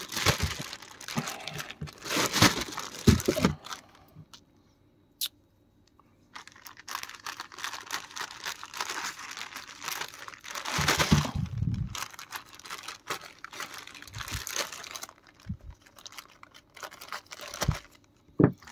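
Plastic packaging holding Gohan and Goten figurines is opened, with bursts of crinkling, tearing and rustling plastic up close, broken by brief pauses and clicks.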